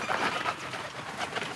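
Nun breed pigeons cooing close by, a short run of soft, repeated throaty coos with no other sounds.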